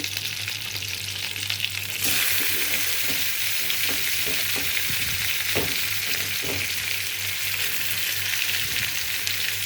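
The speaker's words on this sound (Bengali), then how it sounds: "আমি এখন কলা শিকলাগুলো এই তেলের ভিতরে দিয়ে দিব" Green banana peels dropped into hot oil left over from frying hilsa fish, a loud, dense sizzle that jumps up suddenly and keeps crackling steadily, with occasional stirring knocks.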